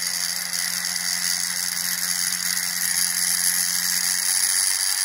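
A self-balancing CMG gyroscope spins up to higher speed, producing a steady high mechanical whine and ratcheting whir with a constant low hum underneath, close and fairly loud.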